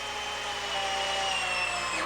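A power drill runs steadily, driving screws through a kitchen cabinet back into a wall stud during a house rehab, a continuous whirring drone that holds constant and close for the whole stretch.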